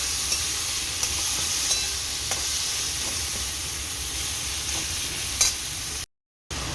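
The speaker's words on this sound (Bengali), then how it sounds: "এখানে মশলা কষা চলছে আর এখানে ঢেঁড়স আলু ভাজা হচ্ছে" Fish masala cooks in one pan while okra and potatoes fry in another, producing a continuous close sizzle and hiss with faint stirring clicks that cuts out briefly near the end, with no voices.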